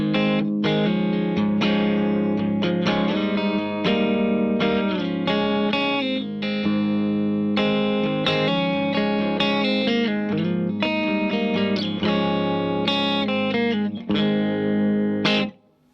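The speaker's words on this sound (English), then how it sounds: "amp number two, which again is the more Marshall sounding one." Electric guitar plays through a Marshall-style amp with effects, giving a distorted, chorus-tinged tone with reverb. A dense run of notes and chords rings steadily and loudly, then cuts off sharply at the end, with no talking.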